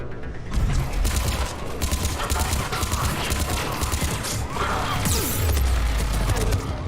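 Enemy turrets firing in Mass Effect 3, a dense, continuous barrage of gunfire and clattering impacts running steadily at high level for the whole stretch, with heavy low rumbles near the end.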